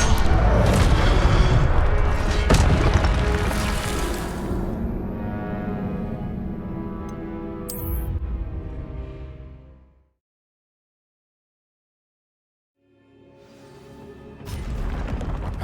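A deep booming blast from an Incendio fire spell in Hogwarts Legacy, loud at the start and then a long rumbling fade into silence, followed by another swelling burst.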